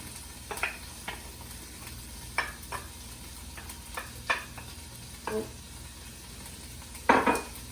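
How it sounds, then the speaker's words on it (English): Minced garlic, four cloves, sizzles softly in a pan with browned bits on the bottom, under intermittent stirring clicks and utensil scrapes against the pan, fairly quiet and close. "then I'll add 4 cloves of minced garlic"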